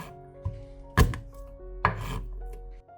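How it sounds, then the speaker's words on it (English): Garlic cloves sliced or crushed with a knife on a cutting board, two heavy close thunks of blade on wood over a low background hum. "You can slice them thinly with a knife or crush them with the back of the knife."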